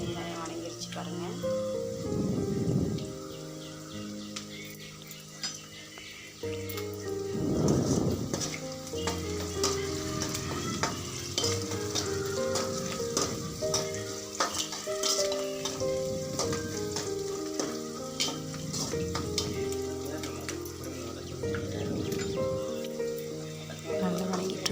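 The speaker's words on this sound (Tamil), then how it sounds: "நல்லா வதங்கிட்டுருக்குது. நல்லா வதங்கிறதுனால பொறுமையாக வெயிட் பண்ணி செய்கிறோம்." Onions sautéing until golden in a pan give a continuous light sizzle with occasional stirring, heard beneath a person talking throughout and some background tones.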